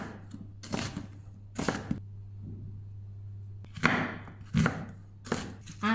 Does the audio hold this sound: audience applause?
no